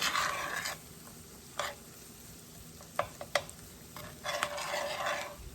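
Flour roux cooking in a pan while being stirred, a soft sizzle broken by short bursts of spoon scraping and a few light clinks, fairly quiet and with no voice.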